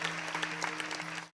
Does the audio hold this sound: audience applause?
yes